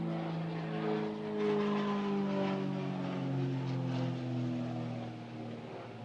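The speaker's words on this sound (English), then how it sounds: "Wait for the plane to finish flying over." An airplane passes overhead outdoors, a steady droning roar with slowly shifting engine tones that swells and then fades slightly, heard alone at moderate distance.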